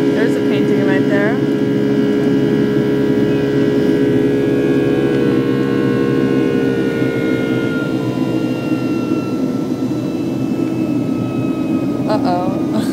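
A steady, loud engine drone heard from inside an aircraft cabin while flying among clouds, a constant hum with tonal whine that persists throughout, with a voice breaking in briefly near the start and end.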